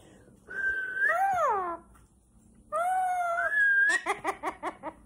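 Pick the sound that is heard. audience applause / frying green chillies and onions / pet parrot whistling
pet parrot whistling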